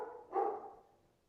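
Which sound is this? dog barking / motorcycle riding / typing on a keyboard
dog barking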